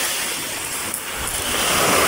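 Ocean waves at high tide wash in a steady broad roar, close and continuous, swelling slightly toward the end, with wind in the background.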